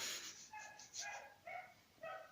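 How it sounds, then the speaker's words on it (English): A beagle barks several times in a spaced, howling rhythm, faint and distant, with no one talking. "It's my neighbor's dog. Oh, it's a beagle."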